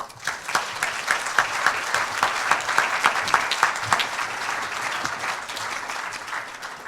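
An audience at a talk applauds as Sally Pipes is welcomed to speak on ObamaCare, a steady wash of clapping from a crowd in a hall with a few louder individual claps standing out near the front before it tapers off.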